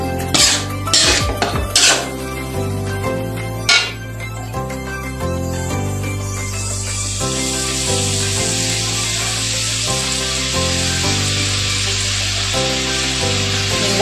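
A utensil scrapes and clanks against a pan while garlic fried rice is stirred. Several sharp metallic knocks come first, then a steady sizzling hiss settles in under a constant background hum.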